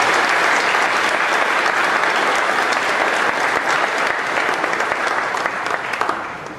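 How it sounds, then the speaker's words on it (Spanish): A church congregation applauds to welcome first-time visitors, with dense and sustained clapping from a full room that fades slightly at the end. "Vamos a saludarlos con un aplauso porque nos alegra verlos aquí."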